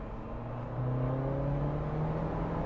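A 2023 Jeep Wrangler Rubicon 4xe plug-in hybrid accelerates hard, its gas engine droning and rising steadily in pitch from inside the cabin, a continuous moderate roar with no talk.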